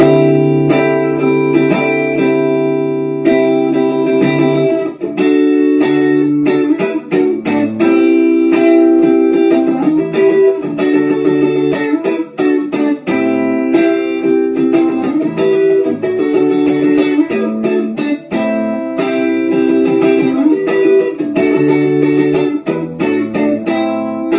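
Electric guitar plays a choppy, rhythmic chord riff with a funky feel, steady and loud throughout with no voices.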